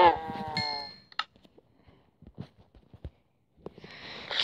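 A cow in Minecraft Pocket Edition lets out short, loud harmonic lowing calls at the start and again at the end, with quiet game clicks and thuds in between.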